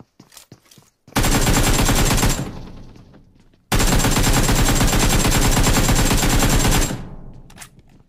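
Automatic gunfire rips through a shooter video game in two long, loud bursts. The first lasts about a second and a half and tapers off, and the second runs about three seconds. A few short clicks come before the first burst.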